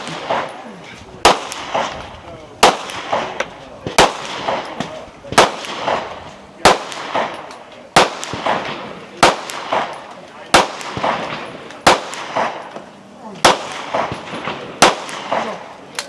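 Sharp gunshots crack out one after another at a shooting competition stage, roughly a dozen loud reports at irregular intervals with faint activity between them.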